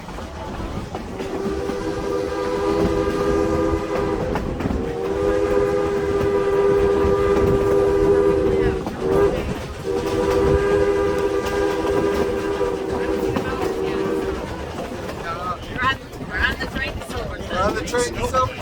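Durango to Silverton train rolling through the flats of Colorado's Animas Valley, a steady loud rumble of wheels and cars with long sustained whistle blasts sounding repeatedly, nearby and continuous.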